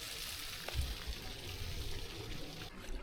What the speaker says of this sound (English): as the waterfall goes over the edge there